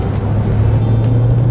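A 2016 Nissan Titan pickup truck drives along with a loud, steady low engine hum and road rumble, heard close from inside the cab.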